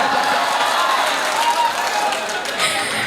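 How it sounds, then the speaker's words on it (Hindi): Audience applause at a ghazal performance on a mela ground: a dense, sustained wash of clapping from a large crowd, loud and continuous, with some voices mixed in. "बिस्वा मेरी बात की ताली बजाए।"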